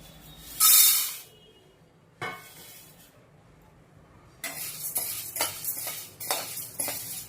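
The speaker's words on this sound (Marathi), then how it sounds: "आता त्यामध्ये हरभरची डाळ टाकून भाजून घेऊया" Chana dal is dry roasted in a pan: a loud burst of grains pouring in, a pause, a clank, then a run of rattling, scraping stirs as the lentils are tossed.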